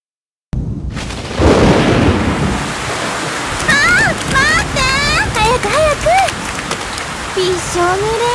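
Heavy rain pours steadily over an outdoor scene in the intro of the 1998 PlayStation game Angelique Duet, a dense close hiss that starts abruptly, while voices speak over it with rising and falling intonation.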